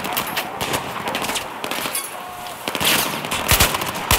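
Rapid bursts of automatic gunfire in Battlefield 4 crackle in quick succession, loud and close, with sharper shots punctuating the last second.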